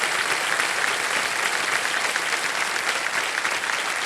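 Studio audience on the quiz show Kaun Banega Crorepati applauding a winning contestant, a loud, continuous roar of clapping that holds steady from start to finish.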